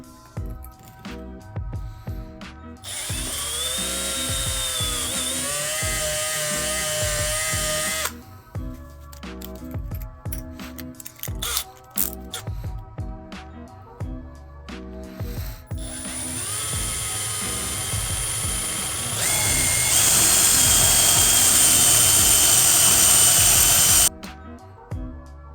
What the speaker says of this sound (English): I decided to drill a small hole here to let the power cords come through the side.